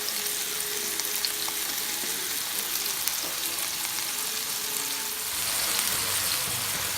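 Seasoned turkey meat frying in a pan with onion powder, a steady close hiss and sizzle that stays loud and even throughout with faint stirring underneath.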